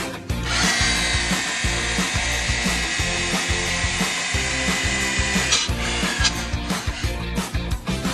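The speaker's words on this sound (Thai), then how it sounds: "เดี๋ยวเราจะเจาะเหล็กเจาะไม้ให้ดูก่อนนะคะ เจาะเหล็กนะ" An Onsen cordless rotary hammer drill bores into steel, a loud sustained high whine from the motor with a rapid rattling hammer pulse underneath, close up, then fading into uneven grinding bursts.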